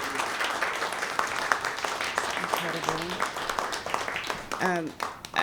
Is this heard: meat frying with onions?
no